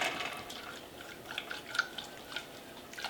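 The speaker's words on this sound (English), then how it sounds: "I'm pouring that in, and I am just whisking it around to make sure that our gelatin dissolves into our boiled water." A whisk stirs gelatin into boiled water in a pan, giving faint, irregular liquid clinks and light splashes spaced every fraction of a second, quiet and close.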